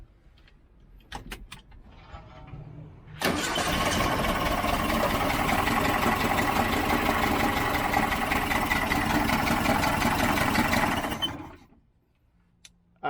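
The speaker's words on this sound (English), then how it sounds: "Now let me start the ignition." 1967 VW Type 3 Squareback engine cranking with the ignition, catching and running at a steady loud idle for about eight seconds before being shut off, preceded by faint clicks and jingles.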